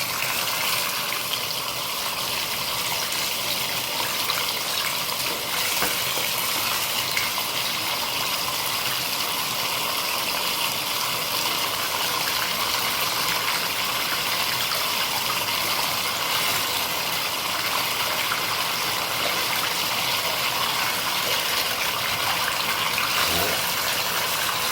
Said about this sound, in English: I want to rinse it off.